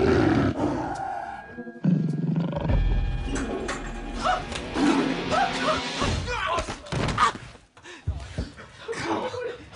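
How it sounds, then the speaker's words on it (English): A tiger roaring in the film The Hangover, loud deep roars with thuds and banging, and talk mixed in over the noise. "Phil, there is a tiger in the bathroom."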